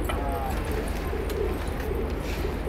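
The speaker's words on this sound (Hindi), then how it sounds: "ये कबूतर पकड़ लिया भाई" Soft pigeon coos murmur low beneath a steady rumble of background noise, with faint scattered chatter nearby.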